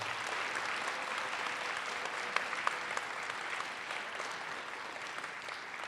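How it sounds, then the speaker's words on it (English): Audience applause for students at a school winter concert, a steady wash of many hands clapping, even and sustained at moderate distance, with no voices over it. "I'd love to give these students another round of applause just for doing that."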